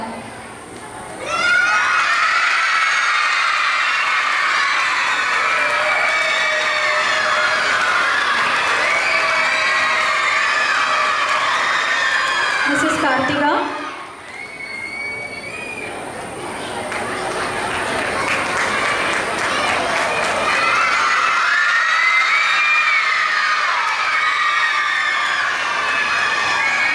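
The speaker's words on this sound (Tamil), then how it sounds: "எங்க பிள்ளைங்க எப்படி கைத்தட்டுறாங்க பார்த்தீங்களா?" Schoolchildren at a school annual day clap and cheer loudly and steadily in a dense, continuous roar with shouts. It briefly dips mid-way as a voice announces a name over a microphone, then swells again.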